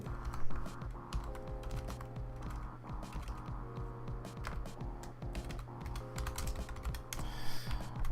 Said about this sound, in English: new keyboard, and it's weird. I find it hard to type on.